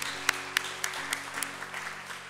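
Scattered applause at a volunteer awards ceremony in Leiden, a few sharp individual claps standing out over a soft, thin patter from a small audience.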